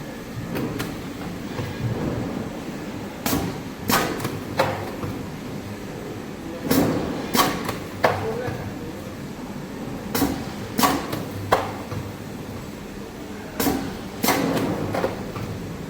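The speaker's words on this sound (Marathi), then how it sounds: "आता आपण 500 ml साठी मशीन स्टार्ट करत आहोत." A milk pouch packing machine filling 500 ml pouches runs with a low rumble punctuated by repeated sharp mechanical clacks and thumps in irregular clusters, fairly close, no talking.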